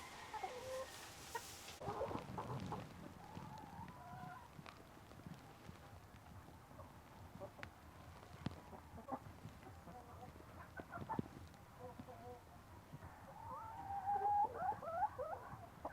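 Rhode Island Red chickens on a farm cluck softly and intermittently, with some rising calls near the start and end, over a faint busy background of scratching and small knocks.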